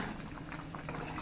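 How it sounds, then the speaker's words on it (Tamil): Dried-fish curry (karuvattu kuzhambu) simmering in a pot on the stove: faint, steady bubbling and soft popping with a continuous low hiss, no voices. "சூப்பராக தள்ளப்பட கொதிக்குது"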